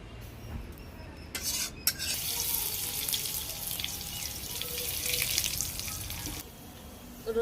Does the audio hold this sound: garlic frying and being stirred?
yes